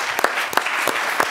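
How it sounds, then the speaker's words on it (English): Audience applause at a town hall meeting welcoming a woman to the stage, a dense patter of clapping with a few louder individual claps standing out, brief and close. "please give her a warm applause"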